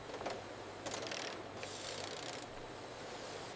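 Factory machinery slicing solid KitKat chocolate slabs lengthwise into finger-width strips, giving a steady mechanical whir with a few brief clicking bursts, moderately close and with no voices.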